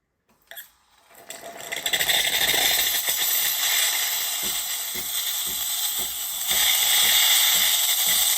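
The steam wand of a used bean-to-cup automatic coffee machine bursts into a loud, continuous hiss after a brief quiet start, sputtering slightly and swelling louder near the end.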